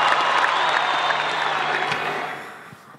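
Audience applause for a speech at a public event, a dense steady clatter of many hands that fades out over about three seconds, with faint crowd murmur underneath.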